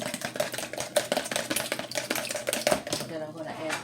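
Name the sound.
stirring an egg for pineapple muffins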